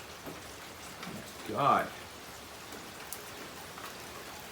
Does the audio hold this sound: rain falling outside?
yes